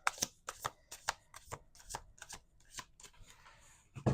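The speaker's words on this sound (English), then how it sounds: "We're gonna do two more shuffles." Tarot cards being shuffled in quick riffled bursts, about nine crisp flurries in a row, close and fairly quiet, with no talking.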